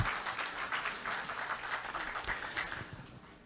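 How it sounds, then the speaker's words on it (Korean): Applause from the crowd at a Liberty Korea Party national convention during a leadership candidate debate, a sustained patter of many hands clapping in a large hall that gradually tapers off, fairly faint. "큰 박수 부탁드립니다."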